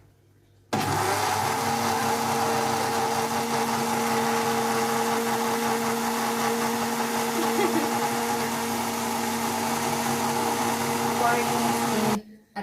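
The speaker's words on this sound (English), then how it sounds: "you're going to take it to the blender so that you can make the ukwaju sauce" Blender running steadily at close range, pureeing boiled tamarind into ukwaju sauce, a loud continuous motor whir and churning that starts abruptly and runs about eleven seconds before stopping, with no talk over it.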